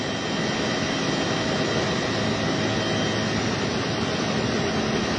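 An air force helicopter from Wing 2 flies over a flooded area, its turbine and rotor noise a loud, steady, dense roar that stays unchanged from start to finish.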